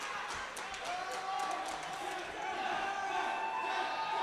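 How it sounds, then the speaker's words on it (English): Wrestling arena crowd at a televised match roaring and screaming for the television champion to tap out, a dense continuous wash of shouting voices with whistles rising slightly in intensity. "the crowd firmly behind Daniel Halen, screaming for the television champion to tap out"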